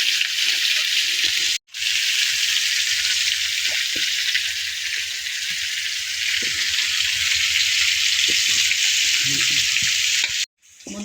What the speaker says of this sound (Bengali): বন্ধুরা দেখুন আলুটা ভাজছি